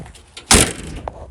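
The door of a 1973 Chevrolet Nova shutting with a single solid thump and short rattle after faint background noise, followed by a small click, close by.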